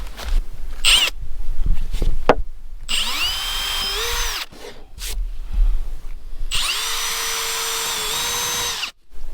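Power drill with a spade bit boring into wood while building a porch on a remote log cabin in Alaska: two loud, close runs of whirring and grinding, separated by pauses with handling knocks and rustles.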